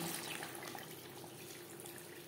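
Water poured into a pan of Bengali rui fish curry with potatoes, a steady close splashing stream running evenly for a couple of seconds without talk.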